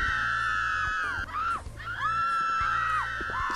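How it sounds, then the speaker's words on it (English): Several generic screams from panicked characters in the PC game Chaser, high wailing cries rising and falling over a droning electronic music bed with a steady low pulse, no speech. "So many generic screams."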